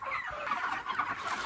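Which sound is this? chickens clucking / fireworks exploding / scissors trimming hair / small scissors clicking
chickens clucking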